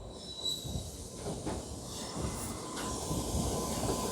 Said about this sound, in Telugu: ఈ సంఘమిత్ర ఎక్స్ప్రెస్ వస్తుందండి, Bengaluru Danapur Sanghamitra super fast express.